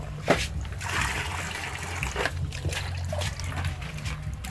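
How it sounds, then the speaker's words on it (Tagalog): Water trickling and splashing as it is collected in containers, a close, uneven dribble with small sloshes and a few sharper splashes, continuing for several seconds. "mag-iipon po ulit kami ng mga tubig"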